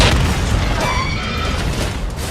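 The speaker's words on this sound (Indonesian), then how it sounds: "Dan sesaat, laptop itu pun meledak." A rigged laptop blows up in the action film The Foreigner, a heavy sustained boom with deep rumbling low end and roaring debris noise, loud and filling the whole moment without a break.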